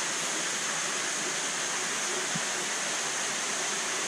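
Water pumped nonstop into fish exhibits spills over and out in a constant, even rushing wash, steady and fairly soft throughout.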